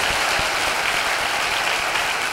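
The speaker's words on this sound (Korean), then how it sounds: "박수로 환영하시고" Steady, dense applause from a church congregation welcoming a visiting guest pastor at a Sunday worship service, sustained and even throughout with no break.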